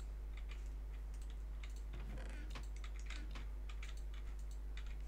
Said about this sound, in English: if I flick that lever, you can hear this dropper here clicking